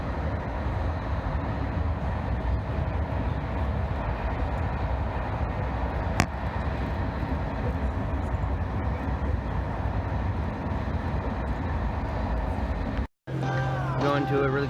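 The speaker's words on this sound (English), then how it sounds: "We're on the train headed to Paris" Inside a moving train headed to Paris, a steady rumbling, hissing ride noise runs throughout, broken by one sharp click midway and a brief dropout near the end.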